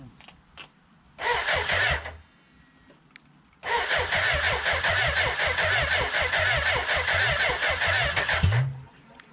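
A BMW K100 motorcycle engine cranks in a short close burst, falls quiet, then cranks again for several seconds with a steady rhythmic churn before it cuts off. No one speaks.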